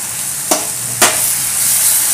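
Grated carrot halwa frying in ghee, a continuous loud close sizzle with two quick scraping strokes of a spoon through the pan.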